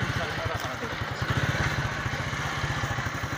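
A motorcycle engine runs steadily with a rhythmic, clattering thump while riders carry a wheat storage chest on it, loud and continuous throughout.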